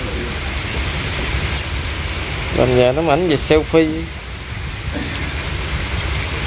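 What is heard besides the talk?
rain falling on river raft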